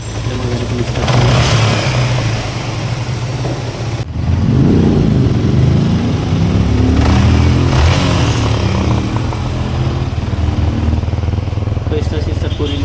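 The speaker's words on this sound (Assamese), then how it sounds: "এতিয়া মই গাড়ীখন ষ্টাৰ্ট কৰিম।" A Yamaha MT15 motorcycle with a newly installed block piston starts up and revs, with a burst of engine noise partway through that settles into a steady, loud, close running sound.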